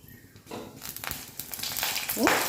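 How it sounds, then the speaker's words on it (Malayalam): Curry leaves dropping into hot oil where mustard seeds have already popped, giving a rising crackle and sizzle that grows louder and ends in a sharp burst of spitting. "നമ്മൾ കടുക് പൊട്ടി വന്നിട്ടുണ്ട് നമുക്ക് കറിവേപ്പില കൂടി ഇട്ട് കൊടുക്കാം"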